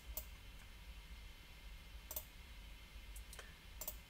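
Sharp, faint computer mouse clicks while stepping through the Git software installer, about five isolated clicks spaced irregularly over a low steady room hum, with no talking.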